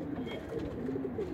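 Pigeons in a loft coo softly and steadily, several low burbling calls overlapping under a constant background hum.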